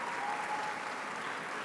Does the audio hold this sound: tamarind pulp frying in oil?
no